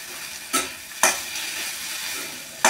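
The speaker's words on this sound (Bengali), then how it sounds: "যতক্ষণে মশলাটা ভাজা হবে, পেঁয়াজগুলো একটু এমনি নরম হয়ে গেছে" Onions and ground spices, including coriander powder, fry in a pan with dried fish. A continuous sizzle runs throughout, broken by three sharp scraping knocks as the mix is stirred.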